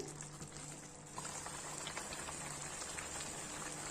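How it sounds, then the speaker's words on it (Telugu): Kurnool-style egg butter masala curry bubbles in a pan, a faint, close, thick gravy popping and blipping irregularly over a steady low hiss. "ఇదిగోండి కర్రీ బాగా ఉడుకుతుంది కదా."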